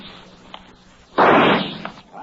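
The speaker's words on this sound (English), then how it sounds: "at the FBI pistol range, Special Agent Jim Taylor is finishing his practice round" A pistol shot at an FBI firing range, produced as a radio drama sound effect: one loud, sharp burst with a short decaying tail, preceded and followed by faint small clicks.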